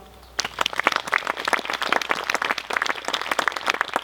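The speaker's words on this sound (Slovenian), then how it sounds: "nagradimo jih z aplavzom" Applause from an audience at the 75th anniversary ceremony of a chemistry institute, honouring an award committee; dense, steady clapping that starts abruptly after a quiet moment and continues evenly near the listener.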